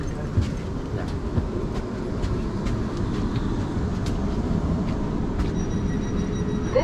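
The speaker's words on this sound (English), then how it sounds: "This train is for London Waterloo." Interior of a train departing Swanwick toward Hedge End, a steady rumbling hum of wheels and motors with faint rhythmic clicks throughout, close and continuous.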